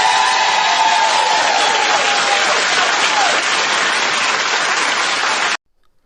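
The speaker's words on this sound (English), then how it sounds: "Clap if you find it offensive" Studio audience applause fills the room, a steady dense roar of clapping that holds loud and even for about five and a half seconds before cutting off abruptly.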